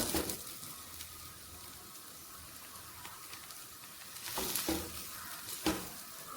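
Egg and spinach frying with coconut oil in a pan, a soft, steady sizzle with a few scraping stirs and spatula knocks.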